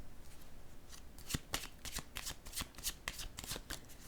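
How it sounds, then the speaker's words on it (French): Playing cards being laid on a table in a series of quick crisp slaps and shuffling flicks, close and moderately loud, with no talking. "Je vais déposer une autre carte."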